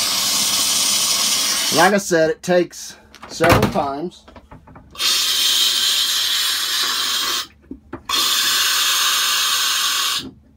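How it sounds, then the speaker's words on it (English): Air and water sputter and hiss loudly from an RV water line in long bursts during winterizing, cutting out briefly between them, with someone speaking over the start. "There's still water coming out, but there's a lot of air."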